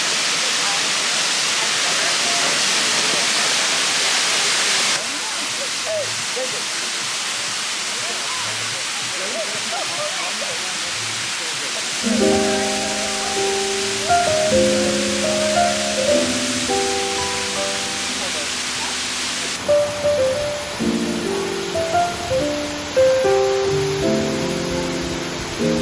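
A waterfall on a hike in Malibu, Los Angeles, roaring as a steady broadband hiss close by, later joined by strong wind buffeting and rumbling bumps from handling or walking.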